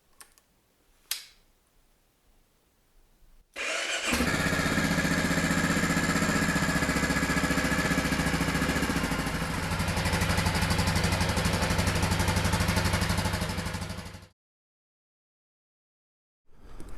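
A 2023 Honda XR650L with stage 1 mods starts up and runs, its engine holding a loud, steady drone for about ten seconds before cutting out abruptly.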